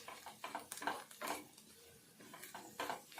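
Cabbage and potato curry stirred in a pan with a spoon, making irregular scraping and clinking strokes that are close and moderately soft, with no voices.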